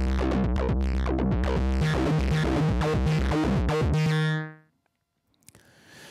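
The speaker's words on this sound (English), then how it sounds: "you just get a nice in-your-face fuzz sort of distortion" A gritty, buzzing fuzz-distorted synth from an Access Virus synthesizer plays a choppy riff, then cuts off into silence with a little faint noise at the end.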